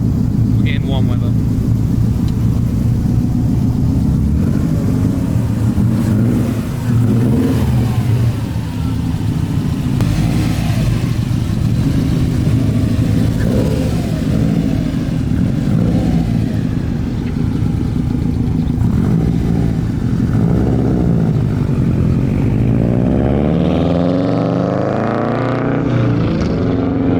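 A Subaru STI engine revs steadily and loudly while the car drives, a continuous throaty drone rising and falling over about half a minute with brief shifts in pitch, and no talk over it.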